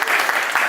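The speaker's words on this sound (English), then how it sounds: "a round of applause for you guys" Steady applause from a crowd, dense clapping filling the whole brief moment at a loud, even level.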